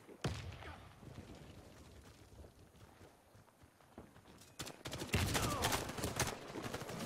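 Gunfire in a Warface team deathmatch: rapid bursts of automatic shots with sharp cracks, steady low-level fire, then a louder, denser volley near the end.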